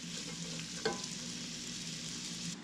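Vegetables with beet and salt cooking in a covered pan, giving a steady, close, soft sizzle throughout, broken once by a brief clink early on.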